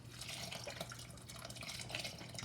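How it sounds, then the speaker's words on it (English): Broth from a carton is poured into a pot, a faint, continuous liquid splashing and trickling with no break. "Now, I'm just going to pour the rest of this in."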